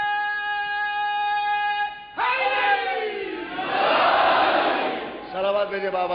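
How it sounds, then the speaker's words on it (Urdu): A crowd at a religious gathering loudly chants salawat on Muhammad after a single sustained call from a preacher. The chanting swells into a dense, reverberant roar of many voices and then fades back toward the leader's voice. "صلوات بھیجے بابا سے"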